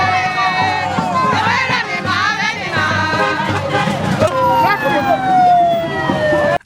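Crowd noise fills the streets as a paramount ruler, the Ohinoi of Ebira land, rides back to his palace amid dancing; steady loud cheering and shouting with a siren-like wailing tone sweeping through the din.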